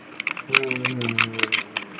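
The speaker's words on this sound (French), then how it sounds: "J'espère que je découpe pas des trucs qu'il faut pas découper" Scissors snip and cut through a cardboard subscription box, giving a series of quick, close clicking and crunching cuts in an irregular rhythm while a person talks underneath.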